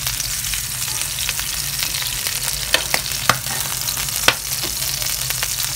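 Ginger and other ingredients fry briefly in a pan for steamed salmon with bok choi, giving a steady close sizzle with a few sharp clinks and stirring taps, and no voices.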